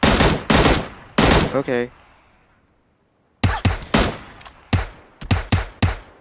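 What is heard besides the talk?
gunfire in a video game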